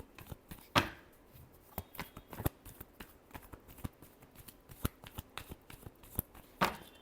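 Tarot cards are shuffled by hand nearby, giving soft, irregular riffles, slaps and taps that stay quiet throughout with no talking.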